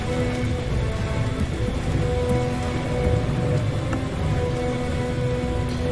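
Rain pours steadily across a battlefield in the video game Total War Rome II, a constant dense patter with a distant rumble of thunder, loud and unbroken throughout.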